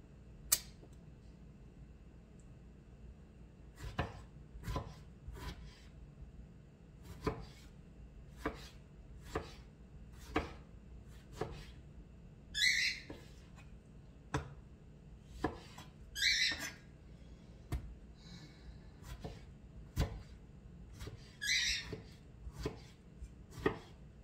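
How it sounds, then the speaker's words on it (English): Tomatoes chopped with a knife on a cutting board for an oxtail tomato sauce: sharp, close knocks in an irregular rhythm, with a few scattered squeaky scraping sounds and no talking. "I took 3 out, but I'm still chopping."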